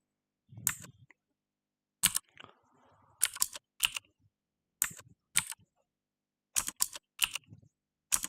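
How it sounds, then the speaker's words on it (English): Computer keyboard typing while writing a C program during a live coding session, sparse bursts of clicky keystrokes separated by pauses, close and clear with no talk. "First I'm going to change the sound of my keyboard a little bit louder."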